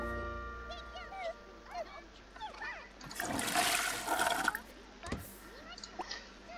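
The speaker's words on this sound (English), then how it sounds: "Gonna flush it, will you?" A toilet flushes in The Sims, a rushing, gurgling swirl of water that rises midway and runs for a few seconds, while light game music and effects play around it.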